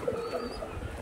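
A pigeon coos softly near the listener. Low, rounded calls come over a quiet background with faint chirps, in one brief phrase of about a second.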